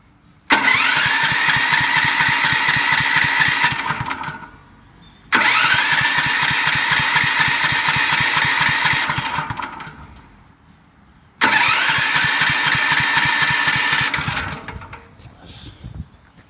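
A Sportsman 7000 portable generator engine is pulled over three times, each pull catching into a loud, steady running roar for several seconds before cutting off into short silences.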